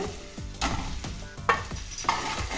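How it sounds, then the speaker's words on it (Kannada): Eggs frying in a pan for egg masala curry, with soft sizzling under repeated scrapes and clinks of a spatula stirring at an uneven rhythm, close and fairly quiet. "ಇದಕ್ಕೆ ಮೊಟ್ಟೆ ಹಾಕ್ಕೊಂಡು ಮಿಕ್ಸ್ ಮಾಡ್ಕೋಬೇಕು ಒಂದೇ ಒಂದು ನಿಮಿಷ ಇದನ್ನು ಈ ರೀತಿ ಫ್ರೈ ಮಾಡಿಕೊಂಡ್ರೆ ಸಾಕು"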